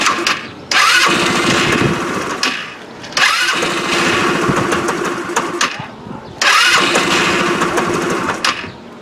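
A TaoTao GY6 149 scooter engine cranks in three long bursts with short pauses between them, the starter whirring loudly as it tries and fails to catch.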